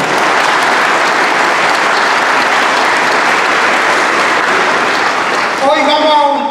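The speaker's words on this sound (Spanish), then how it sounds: "Yo creo que ese es un aplauso fuerte para Nicaragua también." Loud, sustained applause from a large audience at the Premio Lo Nuestro Nicaragua awards ceremony, a dense unbroken roar of clapping, with a voice beginning to speak near the end.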